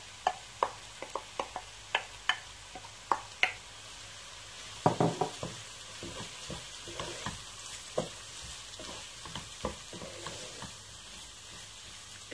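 Washed quinoa and bulgur tipped into a pan of frying vegetables crackle and sizzle steadily, with a run of sharp spoon-on-pan taps and stirring scrapes, no talk.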